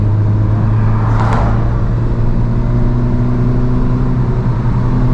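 A turbocharged FRS sports car engine is held on brake boost, droning loud and steady at high revs with no pauses, close to the listener.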